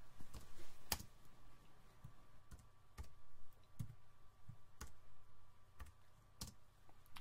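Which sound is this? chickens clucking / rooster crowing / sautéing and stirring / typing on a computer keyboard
typing on a computer keyboard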